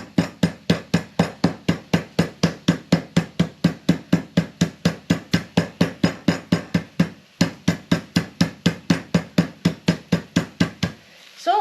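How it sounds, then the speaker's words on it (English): Pork steaks laid between two sheets of cling film are pounded flat with a steady run of loud, evenly spaced thuds, about four per second, pausing briefly before the beating resumes. "I've just got the pork steaks in between 2 pieces of cling film, and I'm just going to just gently flatten them right out"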